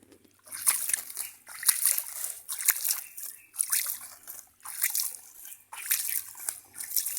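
Irrigation water flows into a field planted with string beans, splashing and sloshing in uneven bursts that come and go every second or so, close by and moderately loud.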